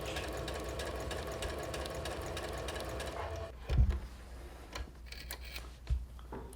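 A sewing machine runs steadily stitching fabric near the corner of a seam for about three seconds, then stops; a few soft thumps and handling sounds follow in the quieter remainder.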